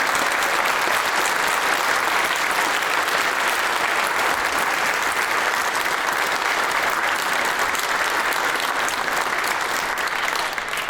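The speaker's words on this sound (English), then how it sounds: "Would you give the chorus another round of applause?" A concert audience at a Christmas classics performance gives the Medina Chorus a sustained, loud, dense round of applause, steady and unbroken for about eleven seconds with no talk.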